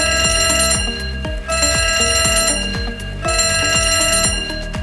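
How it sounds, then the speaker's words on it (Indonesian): An emergency alarm rings loud and steady at a site safety induction, a harsh repeating electronic bell pattern that pulses in short bursts without pause and with no voices over it. "maka alarm tanda bahaya akan berbunyi"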